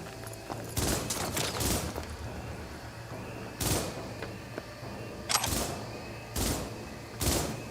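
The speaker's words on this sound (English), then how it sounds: "Firing at close range!" Bursts of gunfire in the Cyberpunk 2077 video game, several loud rapid volleys separated by brief pauses over a low steady hum, with no talking.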